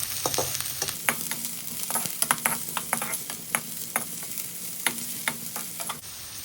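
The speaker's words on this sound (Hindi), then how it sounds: "वो प्याज मीडियम साइज की कटिंग की थी वो अब इसी में जा रहा है। हल्का सा मैं नरम कर" Medium-cut onion frying and softening in oil in a pan, a low sizzle punctuated by frequent sharp spatula scrapes and clicks against the pan, close and rhythmic.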